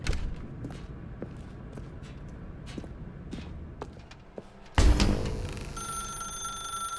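An old telephone rings in The Stanley Parable game: after several quiet, scattered footsteps on a hard floor, a loud, sustained electronic bell ring cuts in abruptly and keeps going.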